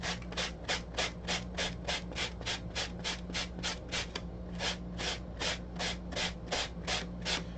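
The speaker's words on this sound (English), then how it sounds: "Sand it down so it's a little bit smoother" Sandpaper is rubbed back and forth over a sculpted character feature on a Figment build, smoothing it down in a steady run of about twenty quick, even strokes, close and alone.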